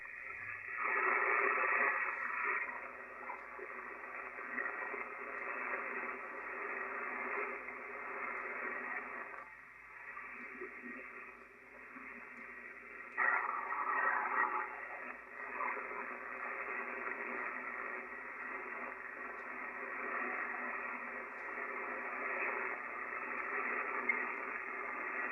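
Steady hiss of static fills a ham radio receiver on a vertical antenna, a band-limited rushing noise that rises and dips slightly in strength, with no clear voice breaking through.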